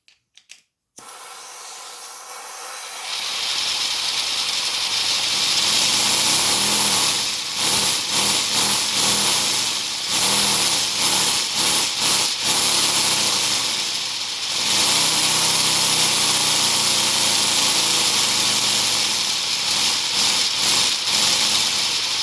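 A 3D printed V10 air engine with a new exhaust runs steadily for over twenty seconds, a dense hissing, buzzing whir with slight rhythmic flutters, close and constant after a short start-up.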